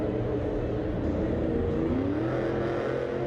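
The Lucas Stabilizer monster truck's engine revs hard during a Monster Jam freestyle run, a loud, continuous roar that climbs in pitch and carries on the whole time.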